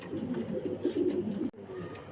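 A pair of White Shouking pigeons coo close by in a soft, rolling murmur of low throaty calls, which cut off abruptly near the end, leaving a quieter background.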